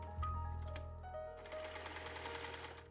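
A serger sewing machine runs steadily, stitching and trimming along the serged neckline edge of a knit crop top, its motor hum close and continuous for the whole stretch with no talking.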